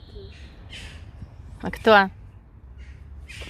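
Crows caw outdoors on an early-morning walk, a harsh burst of calls standing out mid-clip with fainter bird calls around it, over low background noise and a brief spoken question.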